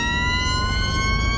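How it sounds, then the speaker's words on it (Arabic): A steady, loud ambulance siren from the video game Watch Dogs Legion holds one high, sustained wail with no break, over a low engine rumble. "نجرب سيارة الإسعاف"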